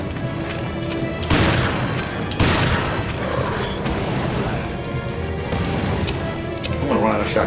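Shotgun blasts in the game Resident Evil: Revelations during a boss battle, two or three heavy booming shots a second or so apart over dense game noise, with a player talking throughout.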